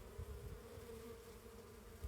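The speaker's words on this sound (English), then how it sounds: "then the bee vibration is super amazing" Bees buzz at a hive, a faint, continuous drone held steady for a couple of seconds with a soft, close hum and no talking.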